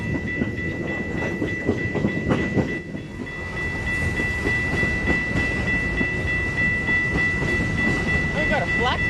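A CN freight train rolls past, its railcars rumbling with a steady clickety-clack close by, a thin metallic ringing over the top, continuous and loud.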